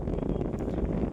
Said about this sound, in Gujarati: પવન બહુ